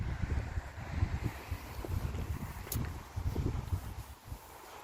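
Steady wind gusts and rumbles against the microphone outdoors, a low blustery roar with no voices.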